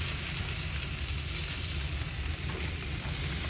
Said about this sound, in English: there's a raging fire going on underneath here